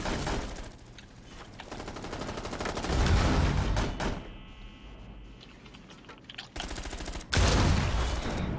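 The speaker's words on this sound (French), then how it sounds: "Il y a un tir qui est passé là, mais de quel côté?" Gunfire in the online shooter Rainbow Six Siege rattles in bursts and rapid volleys, fairly loud and close, with a few sharp individual shots between denser stretches and no talking.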